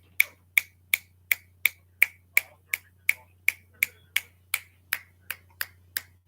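Bare fingers snap seventeen times in a steady, even rhythm, each crisp and close, with a faint low hum underneath and no talking.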